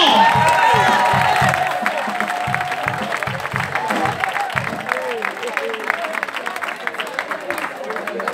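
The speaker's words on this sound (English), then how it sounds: "Clap on to the Lord." Congregation clapping during an all-night prophetic church service, steady rhythmic handclaps in a reverberant hall, with a voice speaking over it at the start.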